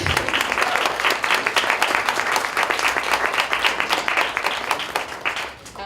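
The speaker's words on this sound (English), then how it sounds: "Yeah, you can clap if you remember that." Audience applause at an art panel event in a gallery setting, brisk close clapping from a modest crowd that holds steady and then tapers off at the end.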